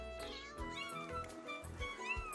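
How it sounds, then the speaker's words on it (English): Small cartoon kittens meowing, several high, gliding mews overlapping one another in a short burst, clear and close. "She was just worried about her kittens."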